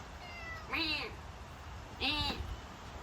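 Two separate meows from a cat in a garden during a flower tour, each a rising then falling wail about a second long, heard at moderate distance over steady outdoor background noise with no talking.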